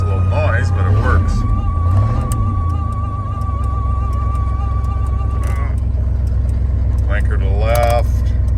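A 1986 Chevrolet C10 pickup's engine idles steadily close by, a low even rumble that carries through the whole stretch, with a thin whine and a few faint background sounds above it.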